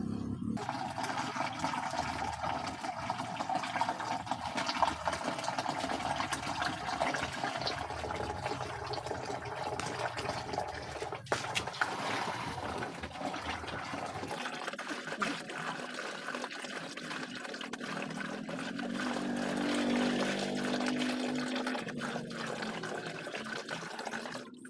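Water pours and trickles into a container while a chicken lice remedy is mixed, a steady splashing flow that shifts in tone as the level rises, fairly quiet and with no talking.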